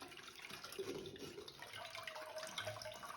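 Water for pani puri is poured through a sieve, a faint, steady trickle and splash of liquid running for a few seconds with no talking.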